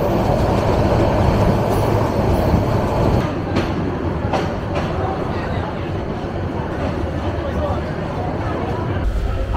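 The Cox's Bazar Express rolls along the rails near Dhaka's Cantonment station, a loud continuous rumble with wheel clatter and a few sharp clicks heard from inside the train.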